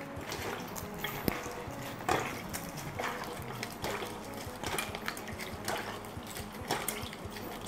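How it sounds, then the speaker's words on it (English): Wet squishing and soft splashes as something is squeezed in water, repeating in bursts every second or so, close up. "Squeeze until this water is nice and green."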